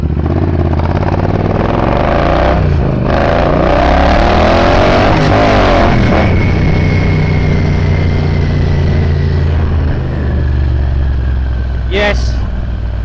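A Triumph Bonneville Bobber motorcycle with an aftermarket exhaust ridden in traffic, engine loud and close with rising and falling revs, a throttle blip midway and a steady drone underneath, wind noise throughout.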